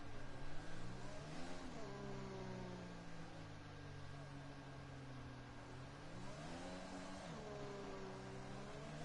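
A McLaren F1 car in the F1 2021 racing game whines past with rising and falling engine tones over a constant, fairly faint engine drone.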